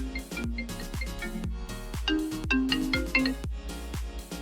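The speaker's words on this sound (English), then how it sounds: "let us test how our ringtone sounds like" The iPhone ringtone playing from a Google Pixel Android phone, a bright, plucked marimba-like melody of repeating notes, clear and close, with no voices over it.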